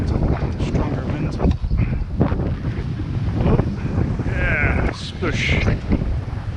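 Strong wind buffets the microphone aboard a sailboat at sea, with a heavy, gusting rumble and roar that rises and falls. Water splashes now and then, and a voice speaks intermittently beneath the wind.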